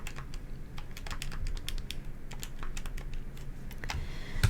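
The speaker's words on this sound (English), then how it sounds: "It's up to you how you want to type it in your calculator." Keys tapped rapidly on a calculator while numbers are entered, a quick, irregular run of close, crisp clicks heard alone with no speech.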